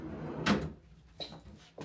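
A drawer in a New York room slides open or shut with a loud rumbling scrape, followed by two softer knocks and clicks, close by and with no voices.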